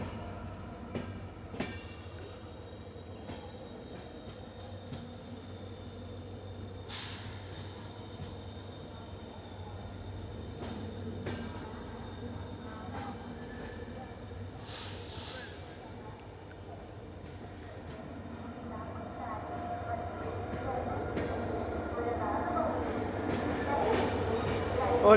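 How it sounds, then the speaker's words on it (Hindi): The Poorna Express pulls into Castle Rock station, a long rumbling train approach with rolling wheel noise and faint squeals, growing louder toward the end while a voice talks over it. "11:03 पर हमारी पूर्णा एक्सप्रेस पहुंची है कैसल रॉक।"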